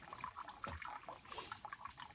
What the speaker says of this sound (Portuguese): Aí vai saindo água, vai saindo areia, vai saindo água, vai saindo areia.